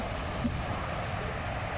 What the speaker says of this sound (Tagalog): Medyo malakas pa ang hangin.